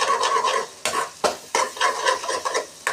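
Flat beans (thattaikai) and egg being stirred and sautéed in a pan, a steady sizzle broken by repeated scraping strokes of the spatula, loud and close with no talking.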